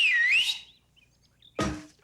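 A clear, bright two-note wolf whistle rising and falling, followed after a brief pause by a short burst of noise.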